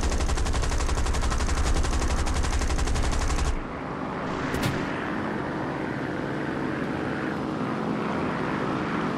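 A warplane drones overhead in a tank combat video game while rapid machine-gun fire rattles on for several seconds, then stops, leaving the engine drone and one sharp report.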